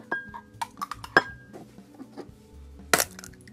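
Sour cream and eggs mixed in a bowl for a quick cheese pie, heard as scattered light clinks and taps of a utensil against the bowl, with one sharper clink near the end and no talking.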